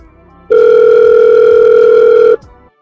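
A steady telephone call tone holds two sustained pitches, loud and unbroken for nearly two seconds, then cuts off abruptly, with no voices over it.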